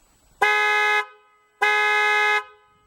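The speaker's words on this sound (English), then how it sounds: "this horn is a lot louder than the Kia" Two loud, sustained honks from a 2005 Toyota Sienna minivan horn, each about half a second long, separated by a short pause.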